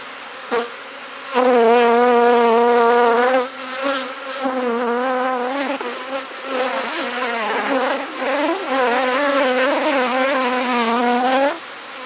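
Honey bees buzz steadily around an open hive during a beekeeping hive inspection, a dense, close, continuous hum that wavers in pitch throughout, with no voices.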